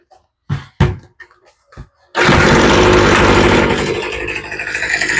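A Troy-Bilt leaf blower fitted with a new spark plug starts up after a few knocks and handling clicks, then roars loud and steady close by, its engine note easing slightly toward the end.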